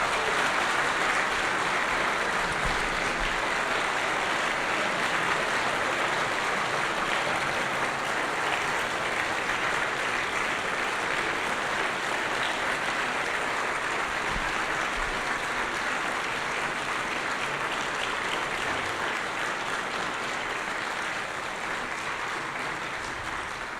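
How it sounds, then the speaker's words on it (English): An audience at a 2008 debate between Ehrman and Licona gives a long, even round of applause, dense clapping that stays full and steady from start to finish. "let's give both of these gentlemen a round of applause"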